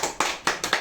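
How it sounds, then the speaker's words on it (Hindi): A few sharp hand claps from an audience at a company management gathering, about four distinct bursts in under a second, close and fairly loud with no talking. "तालियां हो जाए।"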